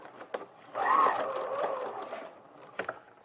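A sewing machine stitching the seam of a fabric eco bag runs in a short, fairly quiet, steady whirring burst lasting about a second and a half, with light clicks before and after.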